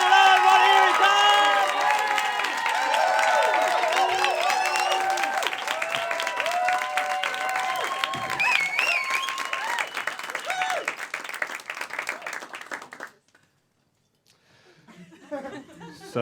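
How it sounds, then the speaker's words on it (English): Comedy club crowd applauding and cheering at a comedy showcase, loud sustained clapping with whoops and laughter and voices over it, fading out near the end before a brief quiet gap and a spoken voice. "So we're going to start the applause."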